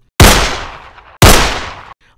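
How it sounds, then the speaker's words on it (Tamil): Two loud, close gunshots fire about a second apart, each a sharp crack followed by a decaying roar. "அவரது அறையில் இருந்து துப்பாக்கி குண்டு வெடிக்கும் சத்தம் கேட்டது"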